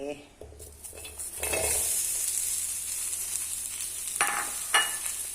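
Hot oil hisses and sizzles steadily as dried chillies, shallots and garlic hit the pan for Thai roasted chilli paste, with a few metallic scrapes and clinks of a utensil stirring.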